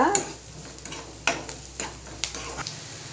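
Crushed ginger and garlic sauté in a pan for an empty kurma, with a soft sizzle under sharp, intermittent clicks of a spoon stirring against the pan.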